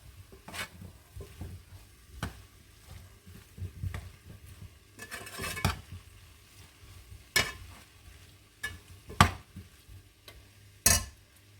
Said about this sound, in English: Let's add in our potatoes. Mix that in as well.